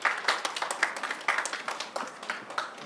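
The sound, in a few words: class applauding a student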